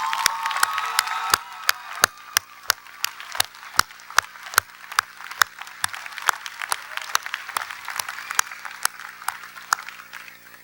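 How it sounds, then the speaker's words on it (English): Audience applause at a community college commencement ceremony: a steady, fairly distant wash of clapping across a large crowd with scattered sharp louder claps, continuing evenly throughout without a break. "let's give them a big round of applause"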